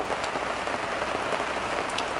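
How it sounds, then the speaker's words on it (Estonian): Steady rain falls outdoors, a dense even hiss of drops hitting surfaces, loud and close throughout with no voices. "Vihm hakkab sadama. Vihma sajab"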